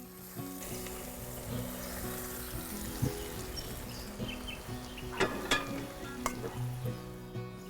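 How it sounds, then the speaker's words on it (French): Hot oil sizzles steadily as thin coconut strips fry for Caledonian-style hachard, a continuous crackling hiss with a few sharper pops and stirring clatters near the end, close and moderately loud with no talk. "c'est l'huile chaude qui va venir cuire le hachard"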